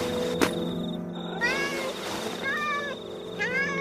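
A cat on top of a wall meows several times, drawn-out and wavering cries close by, separated by short pauses, after a sharp knock at the start.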